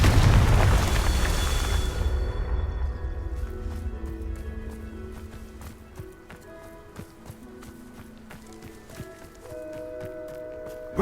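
A Confringo explosive spell goes off in Hogwarts Legacy with a loud, bright blast that rumbles and fades over a couple of seconds, followed by quieter in-game footsteps and ambient game sounds.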